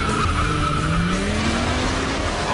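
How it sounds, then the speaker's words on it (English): A street racing car burns rubber at night, its tires squealing in a long, loud, rising whine over the steady roar of the engine, with no break across the short stretch. "You burn the rubber, you smell the fumes."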